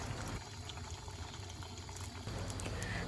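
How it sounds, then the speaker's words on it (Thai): Pork belly frying in hot oil gives a steady, dense crackle and sizzle with spattering pops, close and fairly loud, running continuously and thickening slightly near the end. "นำหมูสามชั้นลงมาทอดนะคะ ช่วงนี้นะคะ น้ำมันก็จะกระเด็นรุนแรงนิดนึงนะคะ"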